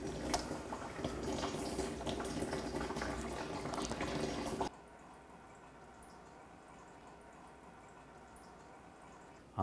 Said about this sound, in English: And drain the oil.